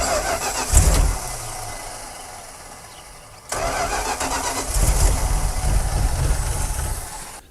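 Abandoned Dodge Power Wagon service truck with no fuel reaching the engine, cranking on the starter in two long bursts, a rhythmic loud churning that drops away between tries, close by with no talk.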